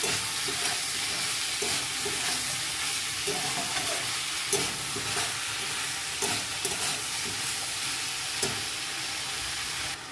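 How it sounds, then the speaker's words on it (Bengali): Food being stirred and sautéed in a pan after salt goes in, with steady sizzling frying throughout and scraping stir strokes punctuating it at irregular intervals, close and continuous. "নুনটা দেওয়া হয়ে গেছে বন্ধুরা। এবার আমি ভালো করে এটাকে নেড়ে চেড়ে একটু"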